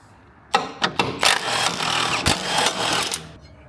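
An impact wrench zips 12mm bolts off the engine of a 2001-2005 Mazda Miata. Several sharp, loud whirring bursts come close together, with brief pauses between them.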